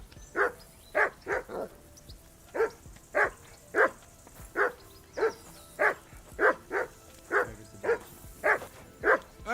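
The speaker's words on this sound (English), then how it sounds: "Henry, whistle at that mutt of yours to stop barking." A dog barks steadily in a video game, about fifteen evenly spaced barks with a couple of quick doubles, moderately close and with no talking.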